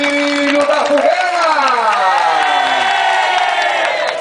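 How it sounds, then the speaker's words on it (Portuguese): A crowd cheers and applauds as a quadrilha junina dance group takes its leave at a festival in Ceará, a loud sustained roar with whoops and shouting voices over a steady wash of clapping. "E a quadrilha Raia Brilho da Fogueira se despede desse público maravilhoso, recebendo os aplausos."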